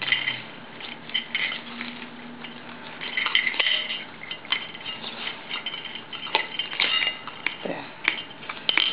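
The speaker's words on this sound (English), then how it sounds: "let's go deep inside here with a knife and undo the potting medium" A knife digging into potting medium to loosen the roots of an orchid keiki while it is repotted into a smaller pot: faint scraping, scratching and small clicking sounds, fairly quiet and close.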